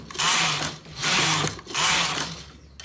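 Domestic knitting machine carriage sliding across rows of stitches, three long rasping mechanical passes in steady rhythm, close and fairly loud with no talking.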